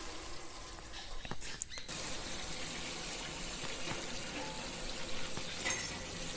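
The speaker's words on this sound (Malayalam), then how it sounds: "ചിക്കൻ നമുക്ക് ഫ്രൈ ചെയ്തെടുക്കാം" Chicken frying in hot oil, a dense continuous sizzle and crackle with small pops, close and fairly quiet.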